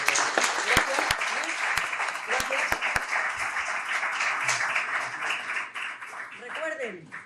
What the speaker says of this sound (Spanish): Un aplauso, por favor, para estos señores.